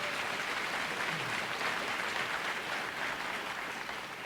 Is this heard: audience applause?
yes